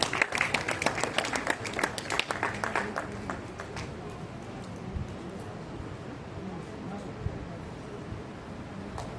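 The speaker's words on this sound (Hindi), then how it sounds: "जोरदार तालियां" Applause from a crowd at a school board results celebration, a thick burst of many hands clapping at the start that thins into a steady, softer patter of claps and room murmur.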